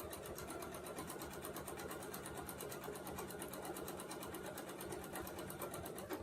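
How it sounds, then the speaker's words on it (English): A sewing machine quilts with a fast, steady, continuous stitching hum, its quilt carried on a suspension system, running the whole time at moderate volume with no pauses. "You can see that the quilt is just moving right along with me very easily, and I can adjust my position, and it's just sewing right along."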